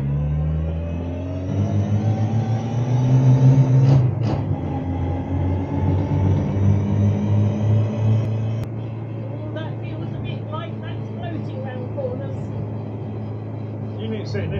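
A turbocharged, Cosworth-engined classic Mk1 Ford Escort accelerating from inside the car: a steady, loud engine drone and rumble that swells and then eases to a lower hum.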